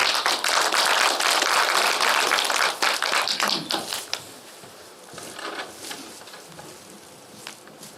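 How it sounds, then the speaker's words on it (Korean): Audience applause at a Korean book launch event for a true-story novel, loud and dense clapping for the first few seconds, then thinning into scattered, fading claps. "여러분 박희숙 특보님 나오실 때 큰 박수 부탁드립니다."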